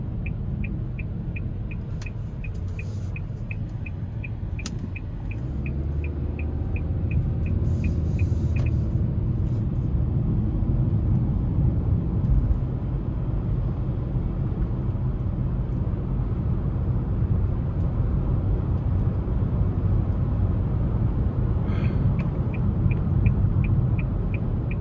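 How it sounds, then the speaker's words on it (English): A 2026 Nissan Altima 2.5 SR Midnight Edition heard from inside as it accelerates in sport mode onto an interstate: a turn signal ticks at first, then a steady low engine and road rumble builds and holds. "Now I'm gonna get the sport mode ready to go here in a minute as I get ready to accelerate"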